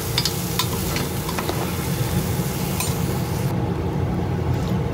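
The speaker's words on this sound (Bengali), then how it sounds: "এবার এটাও একটু এই সবজির সাথে আমি একটু নাড়িয়ে নেব।" Dalia and lentils being stirred into fried vegetables in a pan, giving a steady close scraping and sizzling texture with scattered clicks of the utensil throughout.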